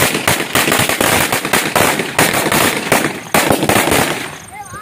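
Rapid strings of sharp Diwali firecracker bangs burst close by, loud and crackling, then trail off into a fizzing hiss near the end.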